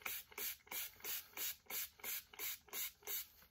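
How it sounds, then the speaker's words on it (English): Conditioner sprayed onto python snakeskin boots, heard as about eight short hissing spray bursts in an even rhythm, quiet and close, with no voices. "don't be scared to spray on there"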